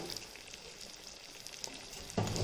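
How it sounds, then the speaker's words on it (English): Soaked, ground chana dal mixture fries in hot oil with a steady, close sizzling hiss, swelling louder near the end as it is stirred. No one speaks. "You have to fry this mixture in the oil"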